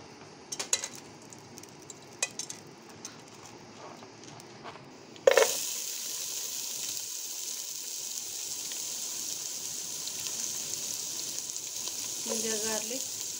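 Cinnamon and bay leaves hit hot oil in a pan for a Kerala mutton masala curry, bursting into a loud, steady sizzle after a few quiet clinks and taps, then frying evenly and close by with a faint clatter near the end.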